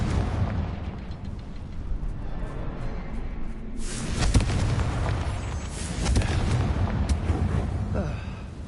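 A Confringo blasting spell going off in a video game, a rumbling explosive burst that swells midway and trails into crackling debris and a second surge, fairly loud over a continuous background roar.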